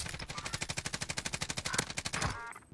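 A PKM machine gun in the game Warzone fires one long, steady automatic burst, rapid evenly spaced shots close and loud, ending abruptly.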